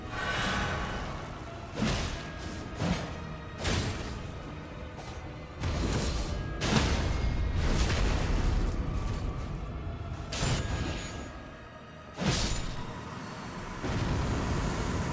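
Explosive booms and whooshing impacts from combat in the video game Elden Ring Nightreign, a solo fight against the boss Everdark Sovereign Maris, with loud repeated bursts of blasts and swings spread across a steady game soundscape.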